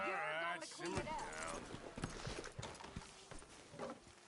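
Rhythmic hoof clip-clops from a walking horse in a PS4 video game, mixed with game-like ambient sounds and voices talking over them.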